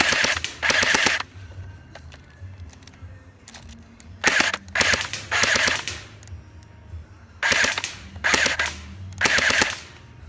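Three bursts of rapid automatic fire from a weapon at a shooting range, aimed at a styrofoam target, each volley loud and close and separated by a few seconds of quiet.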